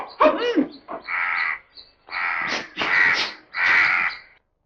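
A crow caws repeatedly in a Tamil family film scene, with five harsh, loud calls coming close together in an uneven rhythm and no talk over them.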